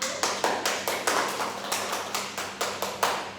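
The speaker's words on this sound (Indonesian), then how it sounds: "Beri tepuk tangan kepada kelompok 1." In a classroom, students give a presentation group a round of applause: sparse, rhythmic hand claps spaced about a quarter second apart, moderately close, with a steady low hum behind them.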